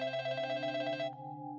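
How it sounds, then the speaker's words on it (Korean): A telephone rings at an office where a call is taken, a steady electronic trill with rapid pulsing that holds clearly for about a second before cutting to a fainter sustained tone. "다시 그 야마다에게서 전화가 왔다"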